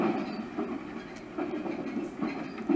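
In Chilla's Art's The Ghost Train, a train runs along the rails with a continuous rumble, and periodic wheel clacks come roughly every half second at moderate loudness.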